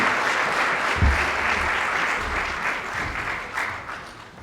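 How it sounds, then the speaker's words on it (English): Audience applause for piano performers at a school of music event, close and fairly loud dense clapping that holds steady, then slowly thins toward the end. "please join me in giving them a round of applause for their performance"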